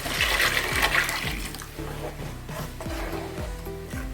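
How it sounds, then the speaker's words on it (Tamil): Mint vegetable kurma with masala and ground coconut boils in a pot, giving a steady bubbling and gurgling with irregular low pops that continue throughout, with no talk. "பாருங்கள், நல்லா கொதிக்குது."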